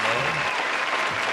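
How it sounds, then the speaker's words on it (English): A short round of applause on a podcast, a dense burst of clapping that stays steady throughout, with speech mixed in. "round of applause to that"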